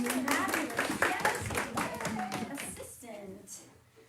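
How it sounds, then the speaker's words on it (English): A cooking class audience gives a short round of applause, scattered clapping from a small group that fades out over a few seconds, with voices mixed in. "Round of applause for this fabulous"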